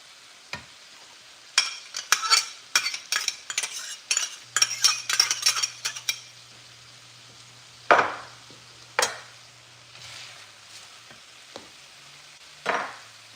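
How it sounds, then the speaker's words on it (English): Meat, shredded carrots and vegetables sizzle in a pan over medium-high heat while a utensil stirs and scrapes, making a quick run of clinking strokes followed by a few louder scrapes, close and clear with no talking. "cooked it on medium-high just to get the meat sizzling, cooked, the vegetables tender"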